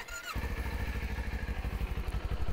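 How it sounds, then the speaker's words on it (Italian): A Kawasaki Z400 motorcycle engine catches after a brief crank and settles into a rapid, throbbing idle, loud and close. "La moto si accende"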